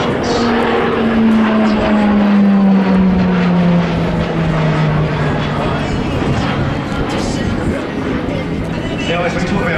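RAAF Roulettes PC-21 propeller aircraft flying in formation at the Avalon Airshow, a loud engine drone with a slowly falling pitch as the planes pass, while a commentator talks over it.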